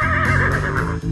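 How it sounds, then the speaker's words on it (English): A horse neighs in one loud, close, sustained whinny with a wavering pitch, heard alone with no talking. "Horse"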